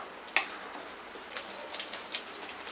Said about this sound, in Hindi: तो इसे हमें कंटिन्यू चलाते हुए भूनना है।